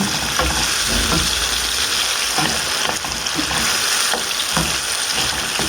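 Tomatoes frying in hot oil in a pan: a steady, close sizzling hiss with occasional soft stirring clatter mixed in, and no talking.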